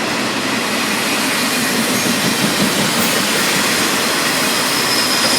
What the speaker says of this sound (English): Freight train. Let's wait for it to go past.